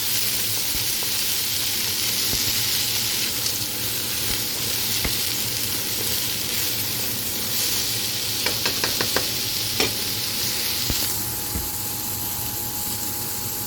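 Vegetables stir-frying in a hot wok, a loud continuous hiss and sizzle with occasional scraping stirs and a quick run of clicks near the middle, close up with no talk.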